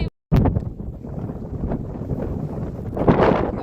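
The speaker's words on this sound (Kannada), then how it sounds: "ಒಳ್ಳೆ ಗಾಳಿ" Strong wind buffets the microphone in a continuous low roar after a brief silent gap, swelling louder toward the end.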